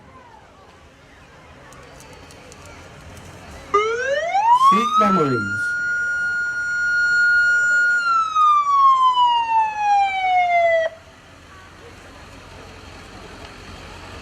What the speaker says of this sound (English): right behind them is medevac ambulance